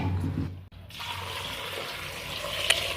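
Indian gooseberries (amla) are washed in water, with gentle sloshing and trickling close by and a brief sharp clink near the end.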